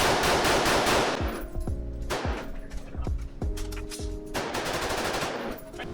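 BCL Siberian rifle firing in a stress test, a burst of loud close shots in quick succession followed by a few spaced single reports, then another rapid string near the end.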